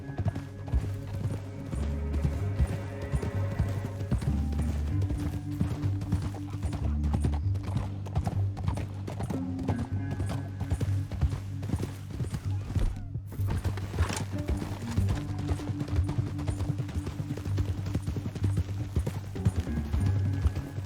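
Horse hooves clip-clopping at speed in the Red Dead Redemption 2 video game, a continuous rapid drumming over low background score, with a brief pause midway and a whinny.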